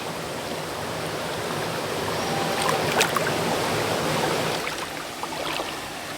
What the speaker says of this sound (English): So this end of the river ends in a mini waterfall.